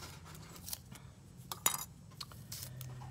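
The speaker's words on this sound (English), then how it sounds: "I'm gonna mix it" Gold mica paint being stirred in a container, giving small scattered scraping and clinking taps close by, with one sharper metallic tick partway through and no voices.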